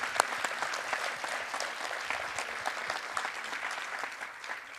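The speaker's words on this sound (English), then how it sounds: "Kindly join me in giving them a well-deserved round of applause." An audience at a data festival closing ceremony applauds with steady, dense clapping that stays even throughout, heard alone without speech.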